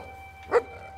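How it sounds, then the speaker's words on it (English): A dog in the Fable II video game gives a single short bark over a faint steady game hum. "What are you barking at?"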